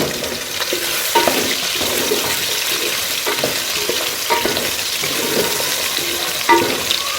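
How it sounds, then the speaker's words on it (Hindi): Potatoes fry in a pan of hot oil for Kashmiri methi aloo, a steady close sizzle with occasional stirring scrapes and no talking. "बस आलू को जो है हम इसमें फ्राई करेंगे"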